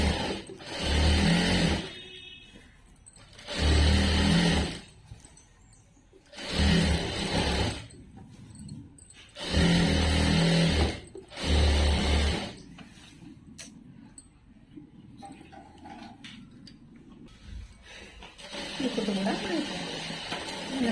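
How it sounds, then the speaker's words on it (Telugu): A sewing machine top-stitches a pant in loud, even bursts of a few seconds each, separated by short pauses, with someone speaking quietly in between and after the final run. "ఇప్పుడు మనము ఇంకొక పైకుట్టు అనేది వేసేసుకుందాం ఇంకొక కుట్టు దాని పక్క నుంచి రావాలి"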